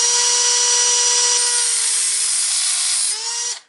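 A hacksaw or Dremel-style compact grinder cuts through a seized metal screw on a Hong Nor X3 Sabre RC car, giving a steady, loud, continuous high-pitched whine that drops in pitch near the end before cutting off.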